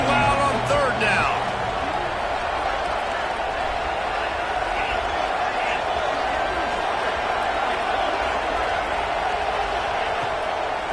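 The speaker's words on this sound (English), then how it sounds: "this crowd bearing down and getting loud on third down" Loud college football video game crowd noise swelling on third down, a dense steady roar throughout with a commentator's voice running over it.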